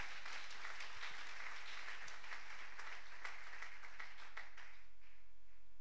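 A church congregation applauds during a worship service. The clapping is dense and steady from many hands, moderately distant, and fades out after about five seconds.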